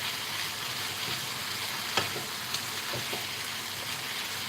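Pineapple pieces dropped into a hot pan of sweet and sour sauce give a steady, close sizzle and frying hiss throughout, with a few sharp clicks and taps of a utensil against the pan.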